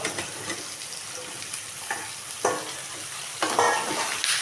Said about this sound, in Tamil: இந்த தண்ணி போடாமல் நல்லா வதக்கி விடுங்க